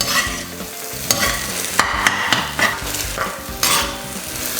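Egg fried rice stirred and fried in a pan, a steady sizzle broken by repeated sharp scrapes and clinks of a utensil against the pan, close and fairly loud.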